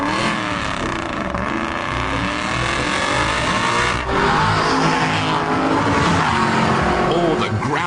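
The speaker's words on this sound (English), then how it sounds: "Look how much more exciting your car seems when it comes with the lusty burble of an Aston" Aston Martin engine burble played back as a car sound, a continuous rumbling engine note with rising revs, loud and steady throughout with a brief dip midway.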